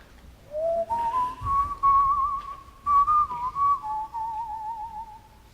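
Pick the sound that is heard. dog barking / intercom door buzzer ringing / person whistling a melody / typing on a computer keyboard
person whistling a melody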